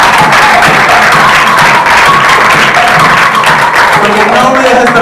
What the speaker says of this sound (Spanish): Un aplauso para mi mujer.